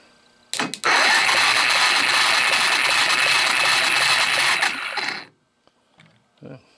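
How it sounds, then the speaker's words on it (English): The starter motor on a salvaged Honda TRX250 ATV engine cranks with a loud, continuous grinding whir of gears for about four seconds, then cuts out and leaves a few faint knocks. "Starter gears sound like a dying washing machine, but it does go round."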